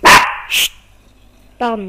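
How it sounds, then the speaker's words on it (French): A pet dog barks two loud, close barks, followed after a short pause by a higher yelp. A man murmurs briefly in between. "c'est mon chien qui aboie."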